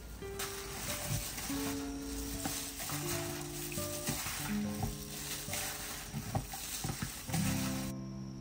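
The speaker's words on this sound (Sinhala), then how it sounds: "ඊට පස්සේ කපාගත්ත ලුණු ටිකක් දාලා හොඳට මේක මිශ්‍ර කරගන්න ඕනි." Chopped onions sizzle steadily in a hot pan with ginger and garlic, with scraping stir strokes and clinks of a spoon on the pan recurring throughout, close and continuous with no talking.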